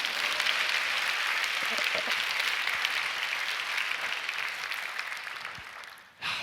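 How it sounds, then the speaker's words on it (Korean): Audience applause at a prayer meeting, a large crowd clapping in a dense, steady wash that holds level for several seconds before cutting off abruptly near the end. "제가 이거 뭐 잘 넣는다고 박수 받을 일인지 모르겠네요."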